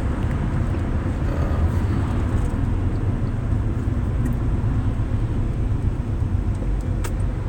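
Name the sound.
road traffic noise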